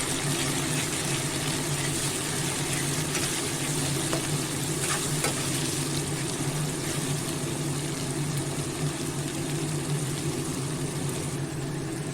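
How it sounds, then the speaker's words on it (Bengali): Chopped tomato frying with onion in a pan, a steady close sizzle with light stirring scrapes running throughout, no voices. "টমেটোটা ভালো করে নরম করে ভেজে নেব পেঁয়াজের সাথে"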